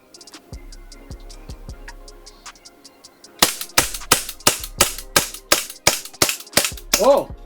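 A Double Bell AM .45 Vorpal Bunny gas blowback 1911 airsoft pistol, silver and black, fires BBs in a quick string of about a dozen sharp, close cracks after some softer ticking clicks, and a voice is briefly heard.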